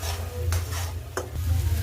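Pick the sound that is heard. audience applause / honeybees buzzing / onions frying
onions frying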